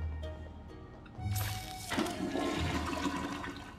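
A toilet flushing in the Luigi's Mansion 3 video game, quiet at first then a loud gushing rush that swells at mid-clip and continues, over faint game background tones.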